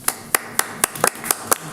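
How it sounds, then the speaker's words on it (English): Slow, separate hand claps at a county committee meeting, roughly eight sharp, evenly spaced claps from a few people in a room, close and distinct with no speech over them. "applaud them"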